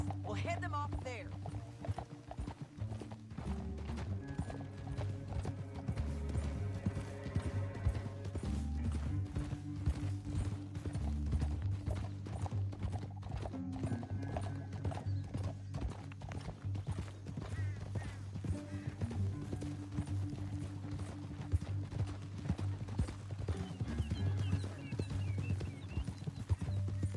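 Horses galloping in Red Dead Redemption 2, a steady rhythmic clip-clop of hooves with an occasional whinny, set under continuous game dialogue and a low background score.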